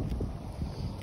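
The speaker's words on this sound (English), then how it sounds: "Wind blowing strong, wobbling my bike. Look at that, there's a wind blowing." Strong wind buffets the microphone while someone rides a large Walmart BMX bike, a steady low rumbling roar that fills the whole moment with no other clear sounds.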